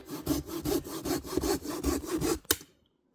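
A hand saw rasps through wood in steady back-and-forth strokes, about a dozen quick passes, ending with a sharp snap and then silence.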